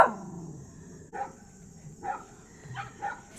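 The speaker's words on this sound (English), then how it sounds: "I don't know what's going on with these puppies." Puppies bark in a few short, yappy bursts spaced about a second apart, close by and fairly loud against a quiet indoor background.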